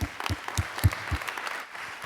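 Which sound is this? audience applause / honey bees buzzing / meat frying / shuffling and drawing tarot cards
audience applause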